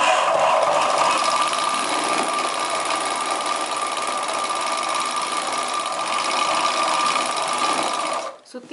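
A sewing machine stitching a chudidar pant runs as a steady, even whirring drone for about eight seconds, then stops abruptly.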